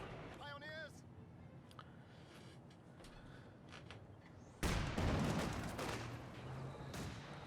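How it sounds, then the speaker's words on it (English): Mortar shells and rifle fire from a Company of Heroes 2 battle pop faintly beneath steady commentary, then a heavy boom-laden barrage of shots bursts in loud and close before easing off. "The mortar just continues to shoot all over the place."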